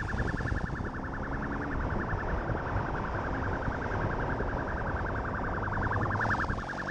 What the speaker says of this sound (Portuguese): Até mesmo com a sirene ligada, os indivíduos não param